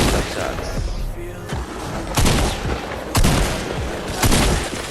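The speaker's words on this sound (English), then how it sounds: "I'll go to shotgun flick shots." Shotgun flick shots fired in the Fortnite video game during aim practice, several loud blasts roughly a second apart over a dense layer of continuous game noise.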